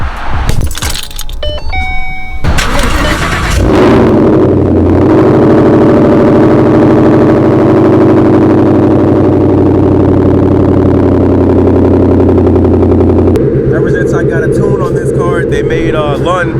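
A loud Ford Mustang engine, tuned and fitted with a stock clutch, starts with clatter and jangling, then settles into a heavy, steady rumbling idle close by, with a change in tone near the end.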